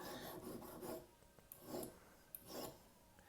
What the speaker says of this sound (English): Now I'm using a file on top